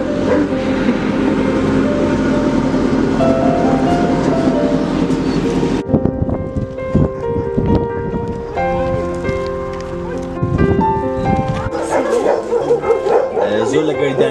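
Dogs and puppies bark at a dog shelter in Erbil, Kurdistan, repeated yaps over a dense, noisy background with people talking, then sharper separate barks.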